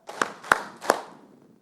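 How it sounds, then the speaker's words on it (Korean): An audience claps three times in unison, three sharp, evenly spaced claps at a lecture hall gathering, each with a brief ringing tail, with no talk over them. "자, 박수 3번 시작."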